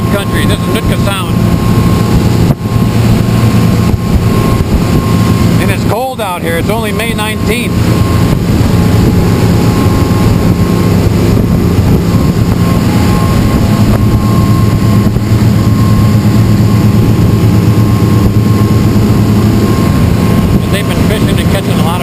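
A small fishing boat motors across Nootka Sound, its engine droning steadily and loudly throughout, with wind and water noise underneath and someone talking over it.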